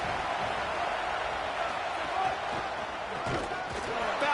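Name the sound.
football stadium crowd cheering for the defense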